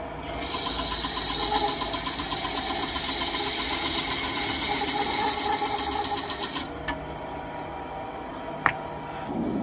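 A motorized saw drones loudly and steadily as it cuts through elk antler, then winds down and stops, followed by a few small knocks and a sharp click nearby.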